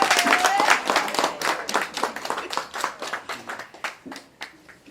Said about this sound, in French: Applaudissez encore pour elle.